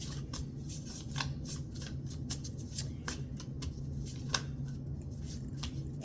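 Tarot cards being shuffled close up, a continuous run of quick papery riffles and flicks at a steady pace, soft and intimate.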